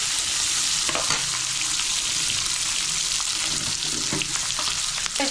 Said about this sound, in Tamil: வெங்காயம் 1 நிமிஷம் வதக்கணும்.